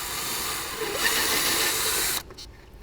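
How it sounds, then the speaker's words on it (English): A power drill bores a hole through the fire stop of a 2007-or-later Jeep Wrangler, a steady high whine lasting about two seconds before cutting off abruptly. "I'll show you how to drill the hole and how easily this fits underneath there"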